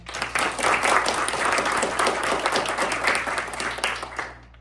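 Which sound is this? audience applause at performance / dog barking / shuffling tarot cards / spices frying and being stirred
audience applause at performance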